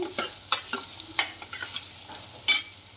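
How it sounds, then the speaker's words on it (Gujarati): A spoon scrapes and stirs potato curry with turmeric and salt in a pan in a series of irregular clinks and scrapes, with a faint sizzle underneath and a louder scrape near the end. "આને હળદર અને નિમક નાખી અને એક વખત હલાવી લેવાનું છે"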